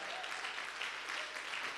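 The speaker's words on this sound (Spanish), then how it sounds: "vamos a ponernos de pie y le vamos a dar un aplauso al Señor" Standing congregation at a church service claps in a soft, continuous wash that stays level throughout the short stretch, with no talk over it.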